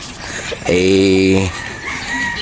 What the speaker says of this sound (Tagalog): yun na lang po yung area na mayroong mga manok